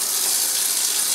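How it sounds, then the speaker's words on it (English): Water aspirator in a chemistry lab running on tap water while iodine is separated: a loud, steady hiss of rushing water that continues unbroken. "turn off the aspirator here"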